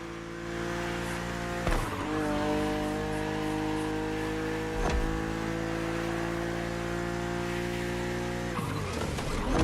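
A BMW Z roadster in The Crew Motorfest holds a steady, close engine drone at speed, broken by two quick shifts and a rising rev near the end, alone without speech.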